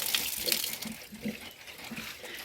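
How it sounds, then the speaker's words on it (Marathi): Water runs steadily from a tap into a storage tank, a soft continuous splashing stream at moderate distance with faint background noise. "आता चालू आहे वाटतं पाणी हो चालू आहे"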